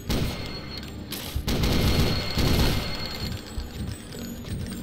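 Gunfire in the Deus Ex video game, a rapid burst of loud close shots and booms that overlap into a rolling volley, then fade to quieter scattered noise.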